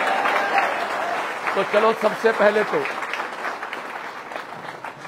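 A classroom crowd applauds teachers on Teachers Day in Sikar, a steady patter of clapping that runs throughout while someone speaks over it.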